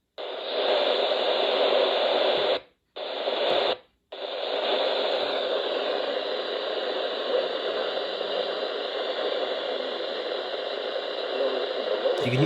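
Steady radio static hisses throughout, with a faint weather radio broadcast voice reading temperatures buried underneath and two brief dropouts near the start.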